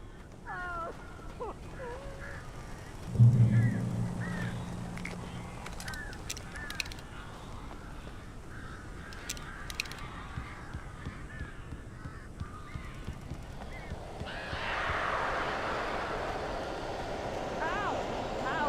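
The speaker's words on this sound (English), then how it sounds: "These birds are weird." Birds caw and squawk in scattered bursts inside a cabin in the video game Alan Wake Remastered, with a heavy thud early on and a rushing wing-flutter swell near the end over a low eerie ambience.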